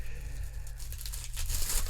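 Tissue paper tears and crinkles up close while a replica WWE World Heavyweight Championship title belt is unboxed, a steady papery rustle that grows louder and sharper toward the end.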